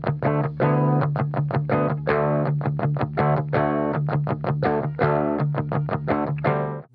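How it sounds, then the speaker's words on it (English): Electric guitar played with a clean tone emulating a Fender clean amp, a run of distinct plucked notes and chords in a steady rhythm, close and alone. "let's start with this guitar's clean sound by itself, basically an emulation of a Fender Clean."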